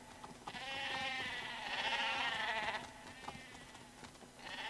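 Sheep in the Ratchet & Clank video game (2016, PS4) let out a few wavering bleats, fairly clear over a quiet background.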